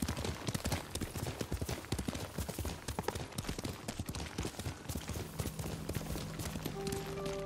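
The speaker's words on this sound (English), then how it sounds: "Horses?" Horse hooves gallop in a fast, steady clip-clop rhythm in the Ghost of Tsushima video game, loud and close, with a low tonal hum entering toward the end.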